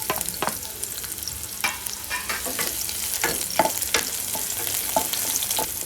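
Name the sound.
onions frying in hot oil in a kadhai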